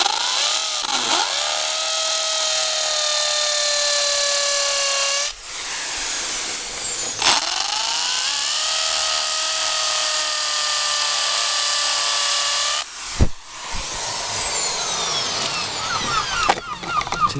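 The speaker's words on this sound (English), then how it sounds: "So I'm going to drill the last 2 holes and mount this." Power drill boring holes into a pebble-dash exterior wall, loud and close, in two long sustained runs with a winding pitch that dips under load, separated by short pauses and brief stops.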